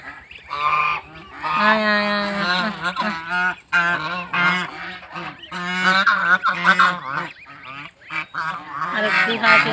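Geese waiting for their goslings honk loudly and close by, a rapid run of overlapping nasal calls that rise and fall in bursts with only brief pauses.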